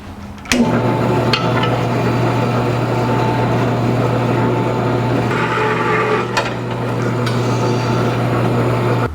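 A saw blade cutting a steel subframe sleeve on a front cross member for a 1949 Chevrolet gasser, a loud continuous grinding whine with a steady low drone and a few sharp clicks, heard up close without talking.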